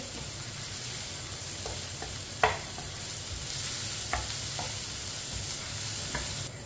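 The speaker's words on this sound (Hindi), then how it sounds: "लहसुन को 2 मिनट के लिए पका लेंगे।" Steady sizzling of crushed garlic frying in oil, with a few soft clicks and stirring taps over the constant hiss.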